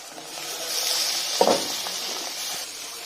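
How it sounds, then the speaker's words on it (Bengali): Tomatoes dropped into a pan of hot oil with a fried egg for bachelor-style fried rice, a quiet steady sizzle with a brief louder crackling burst near the middle, no talking. "এখন আমি টমেটো দিয়ে দিব"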